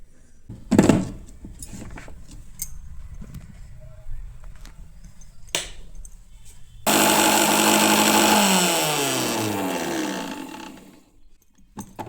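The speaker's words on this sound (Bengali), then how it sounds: "মিক্সিতেই পিষে নেবো চলো এটাকে পিষে নিয়ে আসি" An electric mixer grinder grinding spices starts abruptly after a stretch of kitchen clatter and knocks, running loud and steady with a whining motor that drops in pitch for several seconds before cutting off.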